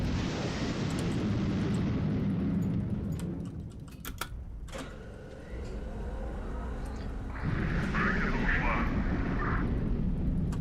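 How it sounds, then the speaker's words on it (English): Anti-radiation missiles launch from an airship in the video game Highfleet. A steady engine roar runs throughout, broken by sharp launch bursts and a loud whooshing surge near the end. "So I've selected my anti-radiation missiles."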